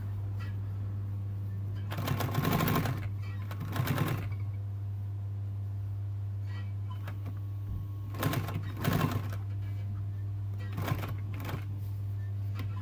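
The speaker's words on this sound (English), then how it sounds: "When you start sewing, you always hold your threads because they can get pulled back into the machine and get very badly tangled." A sewing machine stitches fabric during a Land Rover Series 3 seat upgrade, running in four short mechanical bursts over a constant low electrical hum, with quiet pauses between runs.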